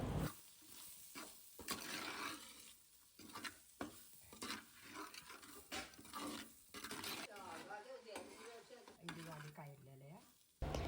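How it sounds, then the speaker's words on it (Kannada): Banana stem curry tempering sizzles in a pan with grated coconut, salt and chili powder. The frying hiss is quiet and steady, broken by repeated scraping stirs, with a faint voice briefly audible near the end. "ಸ್ವಲ್ಪ ಫ್ರೈ ಮಾಡ್ಕೋತಾ ಇದ್ದಾರೆ"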